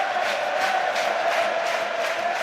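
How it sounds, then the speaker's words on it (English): Home crowd at a Hearts football match against Rosenborg in Edinburgh: a steady roar of thousands of voices with no break, singing and chanting swelling in slow waves, loud and dense throughout. "Non-stop noise for the last couple of minutes"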